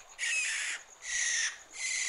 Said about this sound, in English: It's the barn owl. It sounds like it's in trouble.